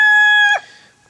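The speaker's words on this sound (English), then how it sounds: "So yeah, bunch of chickens." A backyard chicken gives a single close, loud, tonal call that holds steady then breaks off abruptly, followed by a faint tail of quiet.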